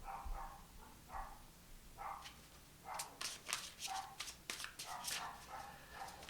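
A dog barks repeatedly in short, sharp bursts some distance away, the barks clustering faster toward the middle of the stretch, with a quiet room tone beneath.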